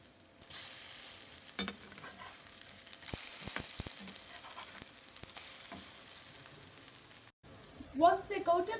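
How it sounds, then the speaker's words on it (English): Zucchini (courgette) fritters frying in a pan over a medium flame, a steady close sizzle and crackle with brief scraping stirs, ending in a louder burst of spitting oil. "flatten it out and let it fry golden brown on each side"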